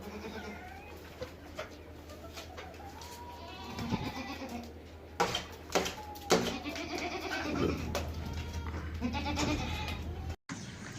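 Goats bleat repeatedly at a busy livestock market, several loud nearby cries rising over a steady murmur of crowd noise and a low background hum, with scattered other animal and bird sounds mixed in.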